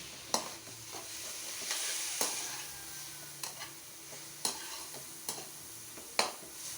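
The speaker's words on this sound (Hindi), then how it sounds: "कलर चेंज होने तक आप इसको भूनें।" Chopped cabbage, carrot, capsicum, green chillies and coriander fry in a pan while a spoon stirs and knocks against the metal in sharp, repeated taps over a quiet sizzle.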